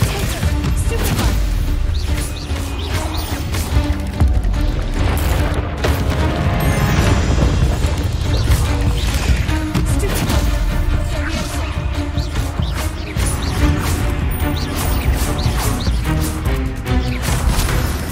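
Stupefy spell casts and impacts in Hogwarts Legacy, a dense run of loud booming, crashing hits layered over continuous game music and effects, with no clear gaps.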